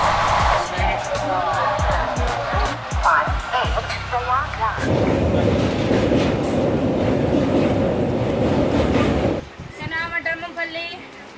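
Passenger train, the Mahanagari Express running between Mumbai and Varanasi, rumbling along with rhythmic wheel clatter and wagon noise, loud and close throughout, with the tone shifting partway as the carriage sound changes; no one speaks.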